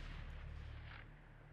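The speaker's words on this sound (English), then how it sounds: "Why is there gunshots off in the distance?" Distant gunfire in the video game Fallout 4, a muffled, low rumbling boom with a faint sharper report, heard alone at low level.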